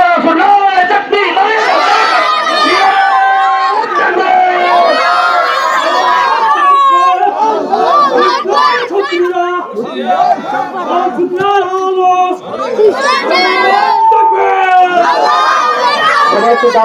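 A large rally crowd chants and shouts loudly and steadily together, answering a Nara-e-Takbir call, with the massed voices filling the space throughout.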